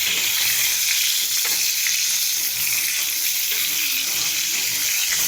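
Pointed gourd frying in hot oil, a loud, continuous close-up sizzle and crackle holding steady throughout, with no talk.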